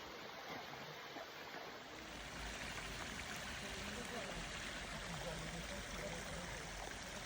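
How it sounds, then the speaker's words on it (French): Waterfall cascade at Autoire in summer, a steady broadband rush of falling water, fairly distant and faint, continuous throughout with a soft voice faintly mixed in. "Voici la super cascade avec des grands jets que vous pouvez voir arriver"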